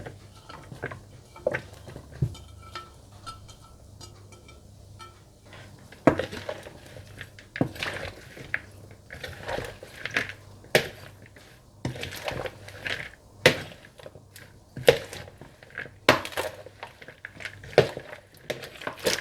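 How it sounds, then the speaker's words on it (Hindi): Onion, tomato, cucumber and bean sprouts tossed together in a bowl for Thai beef salad, with irregular soft clinks, taps and squishy mixing sounds close by, sparse at first then more frequent. "इसके बाद इसमें प्याज, टमाटर, खीरे और बीन्स स्प्राउट डालकर अच्छी तरह से मिला लें।"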